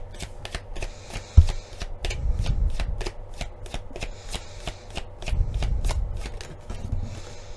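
Tarot cards being shuffled by hand, a rapid run of crisp riffling flicks with heavier thumps and slides as the deck is gathered, close and clear with no talk.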